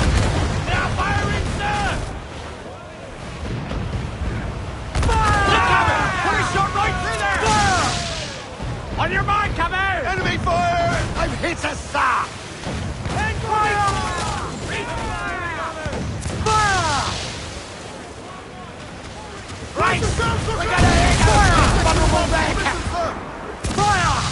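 Ship cannons boom and crash in a naval battle in Assassin's Creed Black Flag. Loud, heavy volleys roll under sea and battle noise while crew voices shout over the gunfire.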